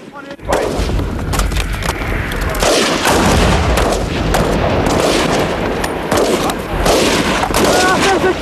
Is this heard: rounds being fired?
yes